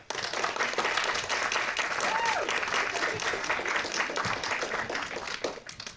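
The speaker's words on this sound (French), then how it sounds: "On les applaudit?" An audience at a cosplay parade applauds the costumed performers, with a dense, steady wash of clapping across the whole stretch that fades slightly at the very end.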